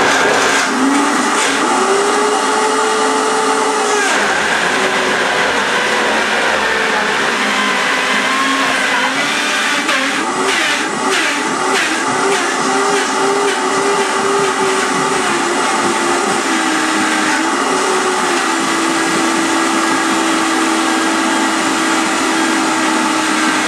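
A Vitamix blender runs continuously while blending a green smoothie, a loud steady motor roar with a shifting whine as the speed and load change, alone with no talk.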